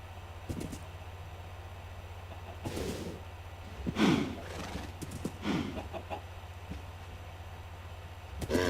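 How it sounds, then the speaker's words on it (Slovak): A tamed horse in Minecraft snorts and whinnies in short bursts, with hoof clip-clops scattered between them over a quiet low hum, the loudest whinny falling near the middle and no speech. "Jo, máme kone. Máme kone."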